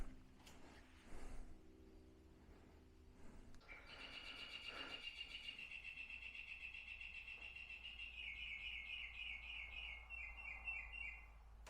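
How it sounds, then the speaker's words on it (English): A bird chirps outdoors beside a motorcycle being serviced, starting with a few scattered calls and then a long, repeated high trill that sounds close and clear against a quiet background. "That's a noisy bird."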